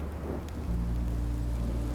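Rain and thunder in Minecraft: Story Mode, a dense wash of steady rainfall with a deep rolling rumble that swells partway through, loud and continuous with no voices.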